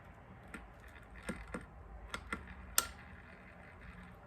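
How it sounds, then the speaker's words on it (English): A Kitchen Aid dishwasher motor that will not start, clicking and straining as it tries to turn over, heard as scattered sharp ticks over a low steady hum. "you can just hear clicking and struggling, trying to turn over, but it's not working"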